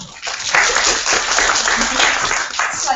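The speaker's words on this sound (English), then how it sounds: "Slightly intimidating having a round of applause before I start speaking" An audience applauds a speaker from the Open Knowledge Foundation at a publishing-industry conference session, a dense, steady wash of many hands clapping close and loud throughout.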